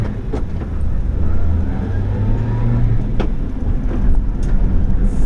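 A 1991 Subaru Sambar 4WD kei truck cruises on a highway, its engine and road noise a steady close drone with a few light knocks and rattles from the cab.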